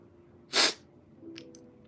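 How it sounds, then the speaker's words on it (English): A single sharp sneeze bursts out, short and loud, followed by a faint sniff in an otherwise quiet room. "Hold on, I got to sneeze."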